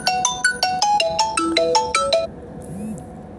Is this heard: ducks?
no